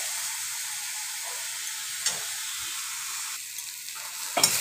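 Chopped tomatoes hit a hot pan with fish-curry spices, giving a steady close sizzle and hiss, with a couple of louder scrapes of stirring near the end.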